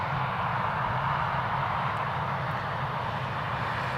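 A Lufthansa airliner taxis onto its stand at Newcastle Airport, its engines a steady, continuous roar with a low rumble underneath, heard from a moderate distance without pauses.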